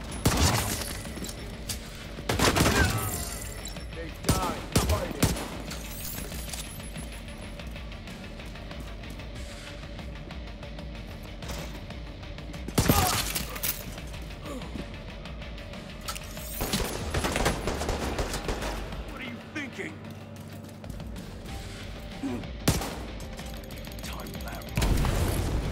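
Gunfire in the video game Division 2 at an embassy crash site, repeated bursts of automatic fire and loud shots spread across the clip over a constant background din, with occasional talk.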